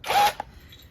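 An impact driver runs in one short, loud, whirring burst while an edger is being taken apart, then cuts off with a small click and quiet room noise.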